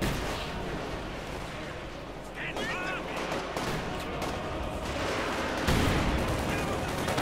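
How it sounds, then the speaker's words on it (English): A T-34 tank attacks an Opel Blitz truck in the video game Company of Heroes 2, dense battle gunfire and booming impacts with a louder blast near the end, a voice talking over the noise. "T-34 moving in to blow up that Opel Blitz and the guy in it."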